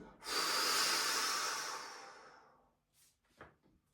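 One sharp, forceful exhale during a breathing exercise rushes out loud and close for about two seconds and fades, followed by a couple of faint short breaths.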